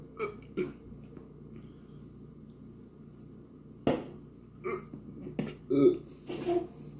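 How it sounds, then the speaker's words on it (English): A single sharp burp rises out of quiet room tone, followed by a few softer mouth and throat sounds, close and fairly faint. "Give you a little Rick burp there."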